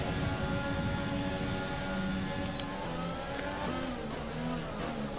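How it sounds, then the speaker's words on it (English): Race cars in the F1 2020 video game at the Baku street circuit, a steady loud engine drone as one car runs close behind another in its slipstream, with no break across the whole stretch. "Right on Schumacher's tail. Getting his slipstream."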